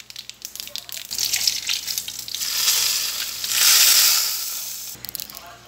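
Red chili and curry leaves hit hot oil for South Indian sambar, a loud bursting sizzle with crackling spatter that swells in two strong waves, then fades back to a steady fry.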